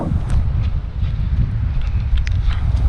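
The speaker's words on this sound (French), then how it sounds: "C'est méga rafaleux." Strong, gusty wind blows across a kitesurfing beach, giving a constant loud low roar and buffeting against the microphone with no clear lulls.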